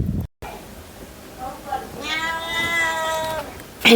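A single drawn-out cat meow, close and clear, after a few soft bumps.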